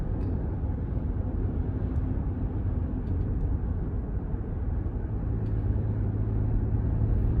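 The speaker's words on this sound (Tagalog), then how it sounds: "Busy ang daan kay ting uli naman." Steady broadband rumble of busy traffic along Carpenter Road near a Home Depot, cars passing continuously with a low engine drone from start to finish and no voices.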